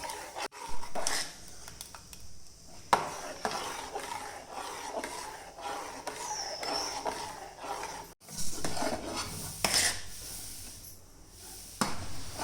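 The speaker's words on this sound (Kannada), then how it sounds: "ಹಾಗಾಗಿ ತಿರುವಿಕೊಳ್ತಾ ಇರಬೇಕು" A rice mixture for crispy rice and sago fryums being stirred as it cooks in a pot, giving continuous scraping and bubbling with irregular louder scrapes and a couple of brief pauses, close and fairly quiet.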